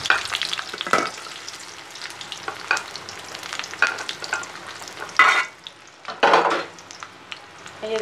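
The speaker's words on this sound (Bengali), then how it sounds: "এখন আমি এটাকে এই যে পেঁয়াজ আর রসুন দিয়ে এটা বাগার দেব।" Beef trotters fry with onion and garlic in a pot, sizzling loudly and continuously while a utensil stirs and scrapes in repeated strokes, with a couple of sharper clatters of cookware.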